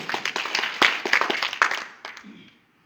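Audience clapping in an Indian seminar hall, a burst of applause from a crowd that stays steady and fairly loud, then thins out and dies away toward the end.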